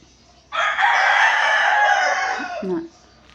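A neighbour's rooster crows once, loud and fairly close, a drawn-out call lasting over two seconds amid quiet household surroundings, with a brief clucking note near its end.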